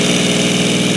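A three-cylinder supercar engine in a car-building video game drones loud and steady at a constant pitch, with a rough buzzing tone and nothing else heard.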